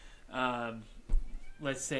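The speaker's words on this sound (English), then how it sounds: "That was a bizarre noise. That was the cat talking." A cat lets out two clear meows, close by, with a short thump between them. People are talking in the room.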